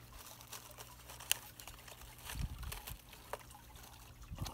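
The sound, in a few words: water trickling into aquaponics pond, making bubbles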